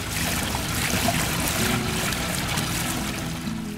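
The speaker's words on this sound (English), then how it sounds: "I like fountains and water, and I like how it moves and the sounds." Water trickles and splashes steadily in a garden fountain, a continuous close wash of flowing water with no voices.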